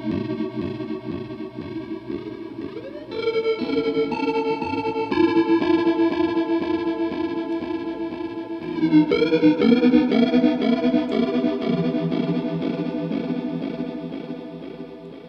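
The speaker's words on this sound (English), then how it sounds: "you can make your guitar sound like not a guitar by using a synth pedal" Electric guitar run through a synth pedal, producing sustained chorus-laden, synthesizer-like tones with held chords and shifting melodic lines, moderately loud and alone with no talking.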